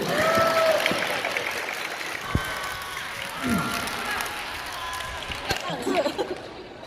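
A group gathered at a strike sit-in claps in scattered bursts amid chatter and voices, moderately near, with movement and occasional knocks in the room.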